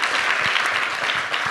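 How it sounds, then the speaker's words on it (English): Audience round of applause for a scholarship committee at a graduating seniors' awards event in Montana, a thick, continuous patter of many hands clapping, steady and unbroken throughout. "so can we give them a round of applause?"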